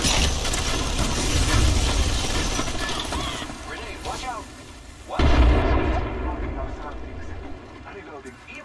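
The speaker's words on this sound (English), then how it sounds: "frag grenade." Frag grenade going off in a video game: a sudden heavy boom with a sharp attack around the five-second mark, set against game sound effects and spoken voices.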